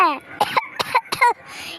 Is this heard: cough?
yes